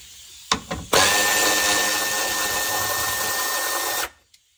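A socket wrench works a bolt loose on a 1990 Dodge Daytona, heard as a few short metallic clicks and then a loud, sustained mechanical whir lasting about three seconds before it stops, close by.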